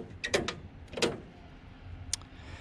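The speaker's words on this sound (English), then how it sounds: "Now I'm gonna shut it off and then relieve hydraulic remotes," Hydraulic remote pressure is relieved on a shut-off John Deere 4020 tractor, producing a few quiet, close mechanical clunks and clicks with short pauses between them.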